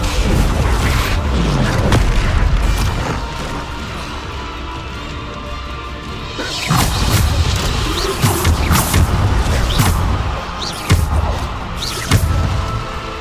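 Bombarda spell blasts in the Hogwarts Legacy video game land as loud, deep booms and crashes over busy combat noise. Several impacts are spread across a dense, continuous stretch of battle, and a voice can be heard under the action.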